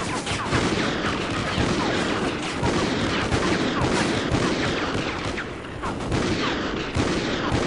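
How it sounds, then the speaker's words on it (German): Dense, continuous gunfire from a Call of Duty: Ghosts shooting match: rapid overlapping shots and bursts sound close and loud for the whole stretch, with almost no talk. "Ja, ich baller einfach drauf los."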